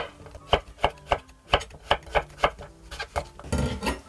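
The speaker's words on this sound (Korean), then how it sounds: "요거 좀 오랫동안 끓일 거라서 두툼하게 썰어주세요" A knife chops onion steadily on a cutting board into thick pieces, a dozen or so sharp, evenly spaced thuds, close up, ending in a quicker flurry of cuts.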